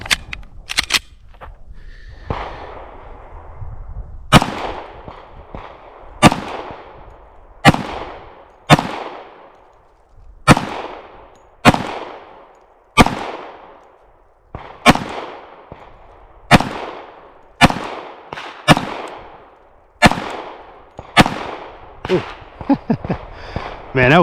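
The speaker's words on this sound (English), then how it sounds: "Let me stop talking and let's go shoot it." A CZ P-10 F optics-ready .45 pistol fired outdoors, about fifteen loud, sharp shots at a steady, unhurried pace, each followed by a short echoing decay.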